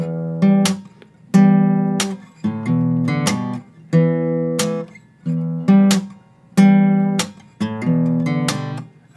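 An electric guitar plays the basic riff of a song, chugging low notes punctuated by sharp higher stabs, looping several times in a steady rhythm, loud and close.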